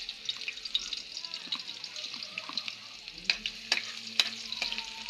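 Garlic, onion and sardines sautéing in a pan give a steady close sizzle and fry, with scraping stirs and clinks of a utensil against the pan, and a voice speaks over it.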